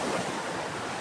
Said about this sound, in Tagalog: Ito sa Dalampasigan.